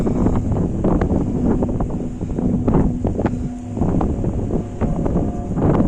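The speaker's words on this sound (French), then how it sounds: "Il y a beaucoup de vent en plus, hein, dehors" Strong outdoor wind at a lakeside house in Peyrolles-en-Provence buffets the microphone with a loud, steady low roar and gusty bursts throughout.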